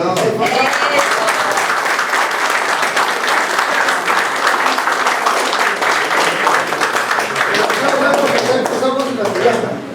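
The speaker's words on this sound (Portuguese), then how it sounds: "Vamos a brindarle un aplauso ahora." An audience at a formal protocol visit event gives sustained, dense applause, with steady clapping from many hands filling the full stretch at an even loudness.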